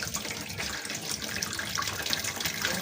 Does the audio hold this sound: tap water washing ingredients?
yes